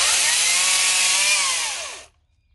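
A Makita 18V XPT brushless 10-inch top-handle cordless chainsaw cuts through a piece of wood about 2 inches thick, giving a loud, steady high-pitched whine that lasts about two seconds before abruptly cutting off.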